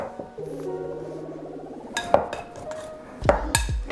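Sourdough pizza dough made with 00 flour being mixed in a bowl, with soft scraping and a few sharp clinks of a utensil against the bowl, close and alone.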